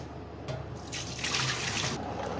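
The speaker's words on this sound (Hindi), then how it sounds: "अभी इसको पानी निकालना है अच्छे से, ऐसा करके पानी निकालना है।" Water pours and trickles steadily as soaking water is drained off soybeans, a soft splashing flow that swells briefly in the middle.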